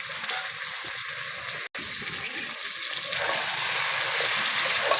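Goat mutton pieces fry with ground spice paste in a pan for a curry, giving a loud, dense, continuous sizzle and bubbling hiss that swells slightly toward the end, with a brief dropout partway through.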